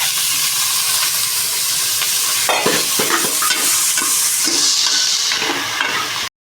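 Mutton pieces with plenty of added fat frying in a pan give off a loud, steady sizzle and hiss, with scraping stirs from about halfway, continuing alone until it cuts off abruptly at the end.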